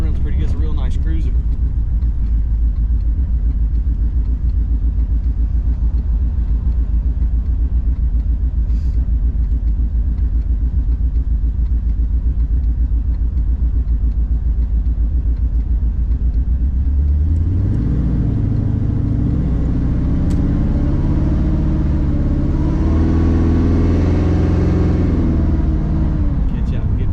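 An old Cutlass car engine with a bolt-on supercharger idles with a steady low rumble, then rises in a rev partway through. Someone talks over it throughout.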